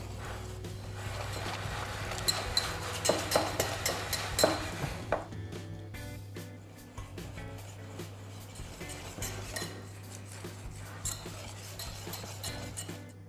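Gingerbread batter is mixed with a honey mixture, with soft stirring and repeated light clinks of a utensil against the bowl, clustered early and then settling into quieter, steadier mixing.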